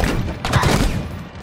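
Rapid volley of gunfire from a Halo Infinite firefight, a dense burst of shots with low thumps layered over a steady loud bed of game sound.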